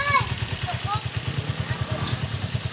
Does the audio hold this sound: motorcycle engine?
yes